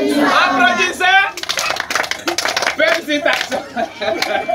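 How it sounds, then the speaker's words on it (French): A short burst of hand clapping from a small group breaks out after a voice, sharp uneven claps close by for a few seconds, mixed with some speech. "Applaudissez."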